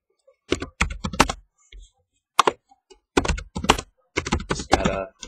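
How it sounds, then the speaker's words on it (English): Typing on a computer keyboard: close, crisp clusters of key clicks in short irregular bursts separated by brief pauses. "Just got to type here to my buddy."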